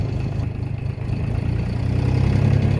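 DongFeng 244DG mini tractor diesel engine idling on hand throttle, a steady low rumble with a rapid, even clatter that swells slightly toward the end, close and continuous with no talk.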